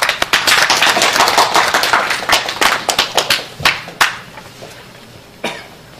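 An audience at a civic network's founding assembly breaks into dense applause that thins into scattered, separate claps and then stops.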